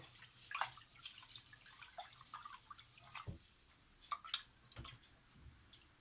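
Rice being washed in water for fried rice or stir fry: scattered drips, splashes and sloshing pours, fairly quiet and intermittent, with no voices.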